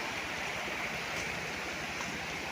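River flowing beside a rural farm lot in Real, Quezon, a steady broadband rushing of water with no breaks, fairly close and even in loudness.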